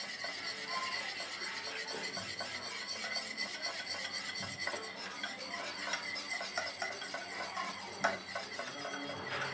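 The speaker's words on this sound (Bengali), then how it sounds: "এটা আমি ভালোভাবে একটু মিশিয়ে নিচ্ছি।" A spoon stirs pink food colouring into a mixture in a bowl for an egg pantua pitha, giving a steady soft scraping with faint clinks, close and continuous.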